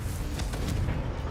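A fiery Confringo blast spell from Hogwarts Legacy bursts out as a short, loud whoosh of broadband rumble and crackle that fills the moment without pause.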